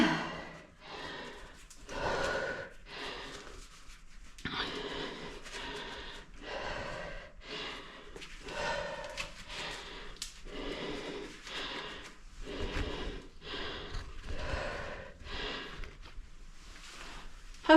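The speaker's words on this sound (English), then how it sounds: "stop breathing so heavy," Heavy, ragged breathing from someone climbing out of Wye Cave in the Maquoketa Caves, Iowa: repeated close gasps, snorts and sighs in an uneven rhythm across the whole stretch, up close to the microphone.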